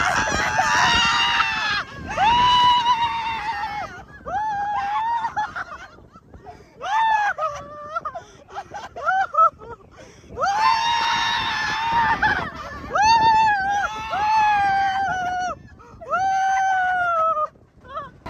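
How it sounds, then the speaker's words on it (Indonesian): Riders scream loudly on the Seven Dwarfs ride, the shrieks coming in repeated long bursts with short gaps between them and building into sustained high-pitched wails. "Dan cuman kita doang yang teriak-teriak."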